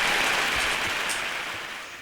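Audience clapping at a literary event in a Kanpur auditorium, a dense steady patter of many hands that fades gradually over about two seconds, with no voices over it.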